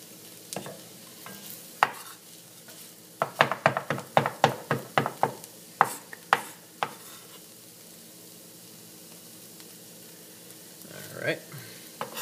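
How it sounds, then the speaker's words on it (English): Onions sautéing in a pan, with a low steady sizzle beneath a quick cluster of sharp spoon knocks and stirring scrapes against the pan, then calmer frying, all close and moderately loud. "now we've got just about another minute for our onions to saute"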